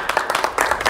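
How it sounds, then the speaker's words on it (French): A studio audience on a French celebrity gossip show bursts into applause, a short lively patter of many hands clapping with uneven bursts, close and fairly loud. "On vous applaudit comme tous les jours"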